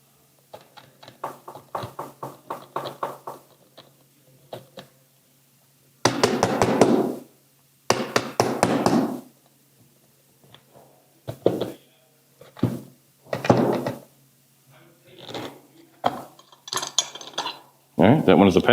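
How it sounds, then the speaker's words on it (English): An XDS pistol slide is racked by hand, a string of sharp metallic clicks followed by several louder, separate clacks of the slide moving back and forth, close up. "Now we have the XDS. All right, and let's manipulate the slide"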